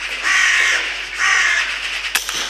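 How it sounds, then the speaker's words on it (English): A magpie on a farmyard roof gives two long, harsh chattering calls close by, each lasting about half a second or more, followed by a brief sharp knock and a softer flutter. "And sure enough, a second magpie lands"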